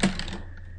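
A computer keyboard being typed on, with a quick cluster of a few close key clicks fading within half a second over a low steady hum.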